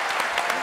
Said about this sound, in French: applaudissements pour Cyril Daspet qui a fait